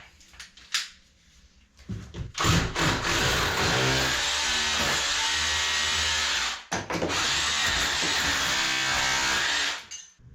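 A loud power drill grinds into a wall, chasing it out, in two long bursts separated by a brief pause, after a few quiet knocks at the start.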